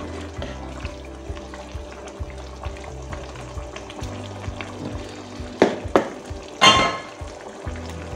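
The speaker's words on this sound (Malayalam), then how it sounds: "ഇനി വെന്താ മതി, ഒന്ന് ഇളക്കി കൊടുക്കാം." Chicken curry simmering in a pot is stirred, with a low bubbling hum and scattered scrapes, then a few sharper clinks and a brief louder rattle near the end; no voices.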